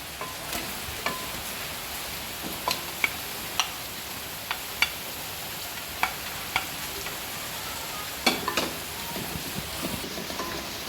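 Sliced onions with cloves, cumin, cinnamon and cardamom sizzle softly in oil in a pan, a faint steady hiss broken by scattered sharp ticks and pops, close and without talk.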